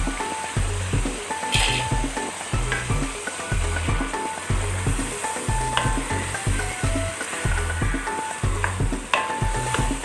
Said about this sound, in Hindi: अब हम शामिल करेंगे इसमें कीमा